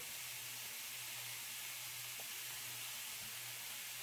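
Spices sizzle in a hot pan while cauliflower rice cooks, a steady, faint, broadband hiss running unbroken with no talking.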